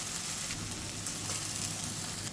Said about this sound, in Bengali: এখন খোলা রেখেই মাছটাকে ভাজা ভাজা করব